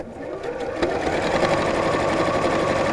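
A sewing machine stitching down the two sides of small fabric tabs, a steady close-up mechanical whir running continuously at an even level throughout.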